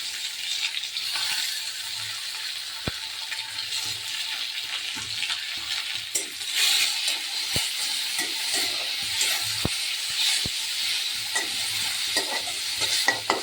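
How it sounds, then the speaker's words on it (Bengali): Chopped tomatoes frying with browned onions in a pan, a steady bright sizzle broken by several sharp spatula clicks and stirring scrapes, with no one talking. "তোমরা চাইলে টমেটো এরকম করেও তোমরা ফ্রাই করে খেতে পারো পেঁয়াজের সাথে"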